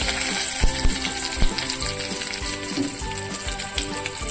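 Cumin, asafoetida and curry leaves sizzle in hot oil, a loud, steady, crackling fry with regular sharp pops and ticks repeating throughout, heard up close with no talking.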